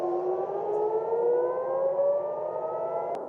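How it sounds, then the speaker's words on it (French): Air raid warning sirens wail steadily at night in Tel Aviv, a loud sustained tone slowly rising in pitch, heard alone without voices. "Les sirènes d'alerte ont de nouveau retenti dans la nuit à Tel Aviv."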